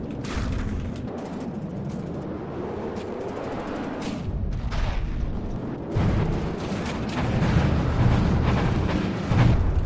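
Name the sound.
internal explosions of a wreck in From the Depths video game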